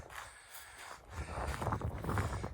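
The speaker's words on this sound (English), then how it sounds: "Sorry, it's so windy, you guys." Gusty wind buffets the microphone, producing rumbling low-pitched blasts that swell and fade, growing stronger in the second half.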